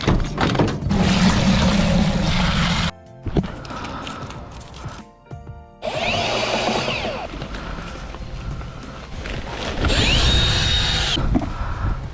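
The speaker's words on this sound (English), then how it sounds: "I've got a bag of bonding here that I used the other day, so I'm just going to mix up about half a bucket" Drill mixing bonding plaster in a bucket, loud grinding whirring bursts broken by brief pauses and clatter, the paddle churning with rising and falling intensity.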